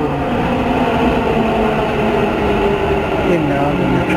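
A metro train pulls into a station with a loud, steady rumble and rolling wheel noise that hold close by throughout, with some faint speech-like sound underneath.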